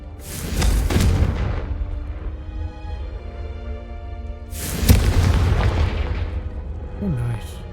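Confringo spell blasts in Hogwarts Legacy land as two heavy, booming explosions a few seconds apart, each with a sharp crack and a long rumbling decay, loud and close.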